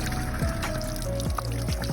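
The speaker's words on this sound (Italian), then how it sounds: "Acqua termale calda." Hot thermal spring water pours and trickles steadily at an old Christian church built on a nuragic site, a continuous close splashing flow with occasional small bubbling plops.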